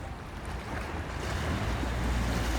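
Sea waves wash and roll at a night fishing spot on the shore, a broad continuous surging rush with wind noise, swelling louder toward the end with no talking.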